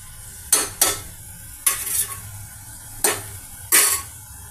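Onion, green chili, ginger and shallot paste, and tomato pieces fry in oil in a pan, with five sharp bursts of stirring and sizzling over a low background hum and no talking.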